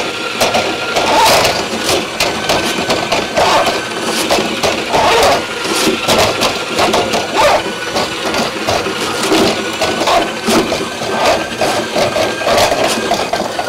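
RIDGID K3800 drum machine feeding its cable into a floor drain: a steady loud mechanical whirr and rattling grind with repeated scraping knocks, running continuously up close.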